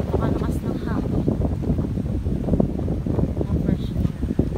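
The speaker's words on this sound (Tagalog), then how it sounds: "napakalakas ng hangin." Strong wind buffets the microphone in a steady, rumbling roar on Tayak Hill in Rizal, Laguna, with talking over it throughout.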